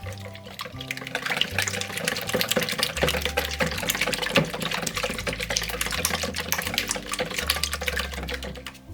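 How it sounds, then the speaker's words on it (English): Eggs are whisked briskly in a bowl for Easter bunny cupcake batter, a fast continuous stream of close, rapid clicking and sloshing that holds steady throughout. "And I'm going to whisk those eggs."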